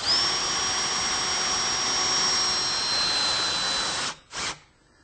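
A power drill drives screws into a wooden back rail and center bracket of a wall-hung console. One long, loud, steady whine is followed by a brief second burst before it falls quiet.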